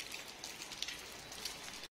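Rain falls steadily in a dense, even patter with a few louder individual drops, heard alone and moderately faint until it cuts off at the end.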